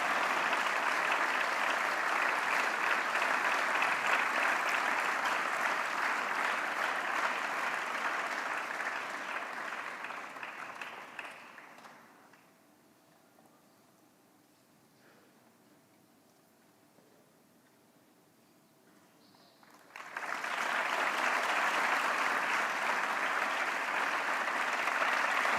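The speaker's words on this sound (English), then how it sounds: "May we please give a big round of applause and invite Shri O.P. Khanna ji on stage to receive the honor." A festival audience applauds in a loud, sustained wash of clapping that thins out and drops away for several seconds before another full burst of applause returns.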